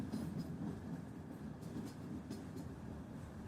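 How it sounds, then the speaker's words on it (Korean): A train rolls past steadily, a continuous rumble with faint rail clatter and a few soft high clicks, fairly quiet and distant-sounding, with no voices. "오늘도 기차는 몇 번이나 무의미하게 지나가고"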